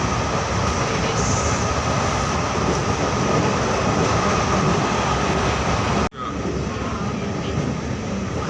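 A train rumbles loudly and steadily at a railway station in Assam, with a dense, close roar that briefly dips partway through before continuing.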